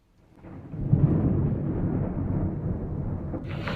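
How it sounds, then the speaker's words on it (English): Heavy thunder rumbling during a storm, a loud, sustained low roll that swells in after a quiet start and keeps grumbling without a break, with a hiss of rain or wind rising near the end. "You hear thunder nearby."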